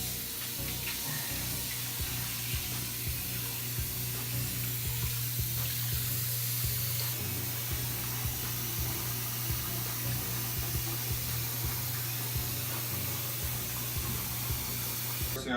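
Water runs steadily from a bathroom sink tap while hair is wetted, a continuous close splashing hiss with a low hum underneath, faint voice occasionally in the background.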